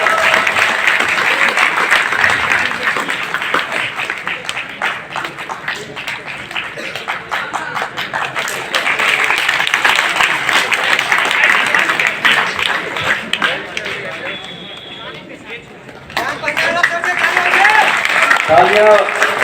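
Audience applause at a district teachers' felicitation ceremony rolls on in long waves of dense clapping, dipping briefly before swelling again, with voices talking over parts of it.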